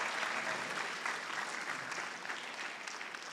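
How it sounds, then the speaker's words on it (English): A graduation ceremony audience at Jennings Secondary School gives a round of applause after an inspiring speech; sustained, even clapping from a large crowd, moderately distant and soft, with no voices on top. "Let's give a louder round of applause."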